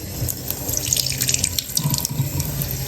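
Tap water runs steadily onto a jasper rock found on a California beach, a close, continuous splashing stream with small bubbly spatters and no talking.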